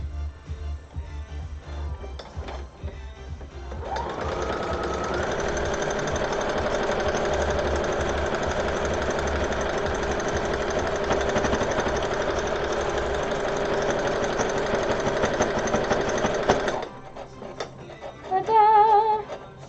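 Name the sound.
sewing machine stitching buttonholes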